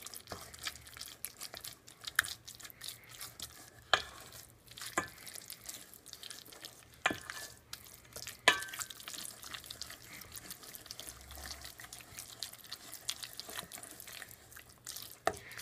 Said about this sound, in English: we're going to continue stirring that in